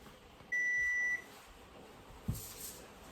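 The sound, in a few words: kitchen oven timer beeping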